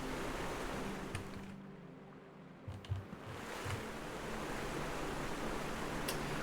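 A waterfall in a video game pours as a steady, broad rush of water, continuous and fairly loud, with a brief dip and a few faint knocks partway through.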